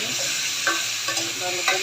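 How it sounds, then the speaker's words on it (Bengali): Radish pieces with turmeric, gram flour and salt frying in a hot pan, a steady close sizzle with a few louder stirring scrapes spaced through. "সামান্য একটু বেসন দিয়ে দিব সামান্য লবণ দিয়ে মূলাগুলো ভেজে নেব"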